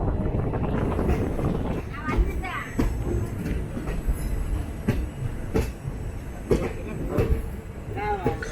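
The 16362 Velankanni–Ernakulam express rolls into Nagapattinam station at night, a continuous close rumble of coaches with wind buffeting and scattered clacks, while a voice talks over it.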